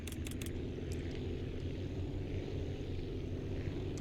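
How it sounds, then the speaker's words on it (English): A small propeller plane roars as it takes off in the aircraft-building game Aviassembly, a steady, loud engine drone filling the clip with a few brief clicks near the start. "there's no chance we're taking off without crashing this plane"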